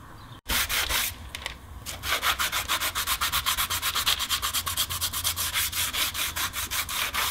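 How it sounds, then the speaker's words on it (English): Wet sanding a paint run on a door with a 3M medium sanding sponge and cold water, a close, loud, steady rhythm of rapid back-and-forth rubbing strokes after a brief start. "I'm using a 3M medium sanding sponge, and I got a bucket of cold water here. And we're wet sanding"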